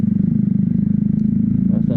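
Motorcycle riding on the road, a loud, close engine with a steady rapid pulsing throb that holds constant the whole time, with faint wind noise and what may be a voice near the end.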